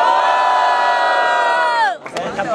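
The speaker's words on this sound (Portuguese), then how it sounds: "Quem gostou das rimas do Mota faz muito barulho" Crowd at a Brazilian student rap battle cheering and shouting together in a loud, sustained roar, breaking off abruptly near the end into scattered whoops and voices.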